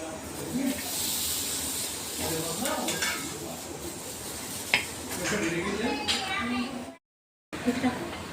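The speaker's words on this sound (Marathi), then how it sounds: "मिरच्या भाजून घेतोय आपण आता" Green chillies roast in a little oil in a pan, giving a continuous close sizzle and crackle with scraping stir sounds, then a brief gap before the frying resumes.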